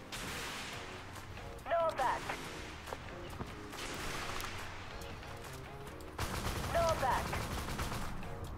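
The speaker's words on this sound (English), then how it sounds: "target designate this Ramka and then unleash upon him all of the missiles" Missiles fire at a Ramka tank in the Armored Warfare video game, with repeated launches and blasts in bursts amid rumbling battle noise, while someone talks over the action.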